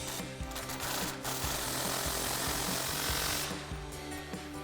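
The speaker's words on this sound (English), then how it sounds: "we'll grab our impact with an extension and a 21mm socket and tighten it down" An impact wrench with an extension and a 21mm socket tightens a bolt on a Jeep Wrangler JL suspension lift install, giving a loud, continuous rapid hammering rattle that runs steadily from start to finish.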